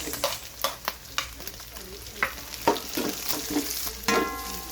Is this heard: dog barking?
no